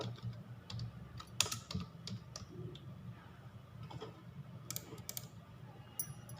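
Fingers type on a computer keyboard in a classroom-style computer lesson, producing soft, irregular key clicks at close range over a faint background hum.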